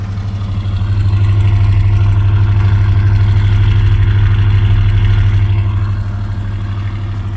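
A 1977 GMC C10 pickup engine runs steadily at close range, a loud, even idle with a strong low rumble and rough mechanical texture, the engine burning oil and smoking a little, with no talk.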